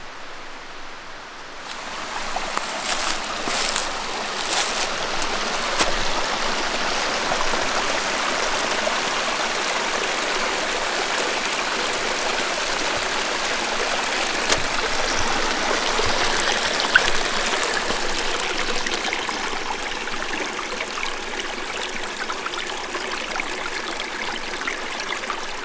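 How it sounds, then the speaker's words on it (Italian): Clear spring water flowing out of the ground at a mountain source, a steady, close, rushing babble that continues without a break and with no voices. "Acqua limpida che viene fuori dal terreno."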